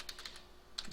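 A few light, crisp keystrokes on a computer keyboard, quiet and close, in a short cluster at the start, then a pause, then one more tap.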